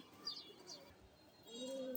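At a pigeon market selling army and high-flying pigeons, faint, soft coos and a few thin chirps come through a quiet, hazy background, with a lower cooing phrase toward the end.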